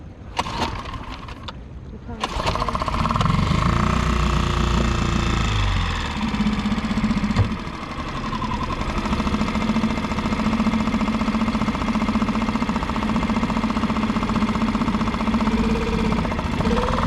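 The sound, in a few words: boat engine cranking and running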